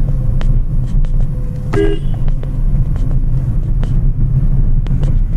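A car's engine drones with a low, steady rumble while driving in second gear at city speed, constant and close, with a couple of faint ticks and a brief higher tone passing over it.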